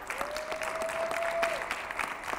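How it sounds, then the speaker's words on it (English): Audience at a breast cancer awareness press conference giving a round of applause, steady dense clapping from a crowd throughout, with a sustained whistle-like tone briefly over it. "So one more round of applause for Latimer."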